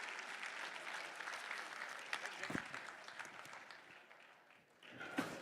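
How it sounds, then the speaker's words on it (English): Applause at a charity gala after a live auction, honoring the bidders, buyers and donors. The clapping is broad and sustained across a large room, dipping briefly near the end before a few louder claps. "A big round of applause for all our bidders, buyers, and donors in our live auction."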